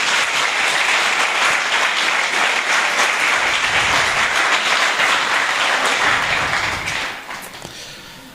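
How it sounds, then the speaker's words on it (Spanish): A church congregation claps loudly and continuously in a dense wash of applause that stays full for most of the stretch, then tapers off near the end. "¿Cuánto le pueden dar un aplauso al Señor?"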